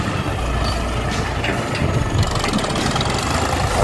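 A Ford New Holland 7610S tractor engine runs with a steady, low diesel rumble while leveling ground, continuous and fairly close, with no voices.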